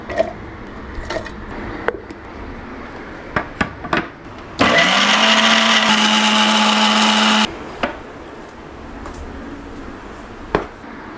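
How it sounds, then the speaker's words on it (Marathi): A kitchen mixer grinder grinds coconut in one loud, steady whir lasting about three seconds, framed by quieter kitchen clatter and taps before and after. "नारळ कटकून दवरला हक्क मिक्सर घालता आणि ग्राइंड करता."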